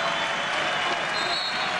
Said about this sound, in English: the crowd starts to believe it now